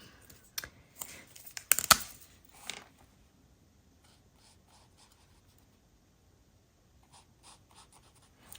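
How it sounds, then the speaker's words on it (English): Stampin' Blends alcohol markers in Smoky Slate colour scratch and scrub across paper, with a cluster of louder strokes early on, then quiet, faint dabs near the edges. "These are the Stampin' blend markers that I'm using today"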